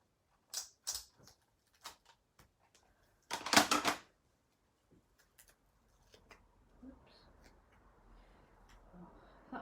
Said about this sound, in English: let's pop a bit of tape runner over the top